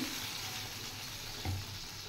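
Steady sizzling and hissing of fried potato and eggplant in a pan, with a brief louder burst near the end as water hits the hot oil.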